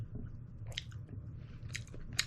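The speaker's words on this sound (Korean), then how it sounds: "지금 12시에 첫끼 먹고 있어요" A person eating their first meal of the day at home, with soft close chewing and biting sounds repeating over a low room hum.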